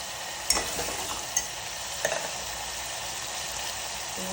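Masala cooks in a pan for a mixed green onion and tomato sabji, giving a steady, even sizzle and hiss throughout, with a few soft stirring scrapes near the start.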